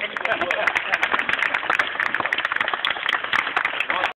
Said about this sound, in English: Let's have a big round of applause for our two volunteers here.